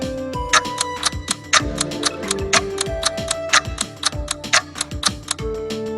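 Steady clock ticking plays as a countdown during a trivia quiz, loud and regular with evenly spaced ticks over a light musical backing, no talk.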